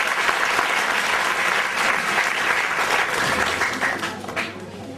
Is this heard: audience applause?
yes